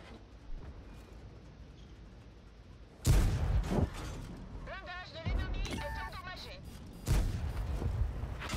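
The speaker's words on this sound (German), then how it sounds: "die Kanone tut auch ihre Arbeit" In a World of Tanks battle, a tank cannon fires two heavy booming shots a few seconds apart, each with a sharp blast and a rumbling tail, while someone talks quietly between them.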